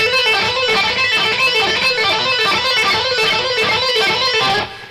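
A bright electric guitar lick of quick descending pull-off notes, played repeatedly in a fast, even rhythm, loud and alone.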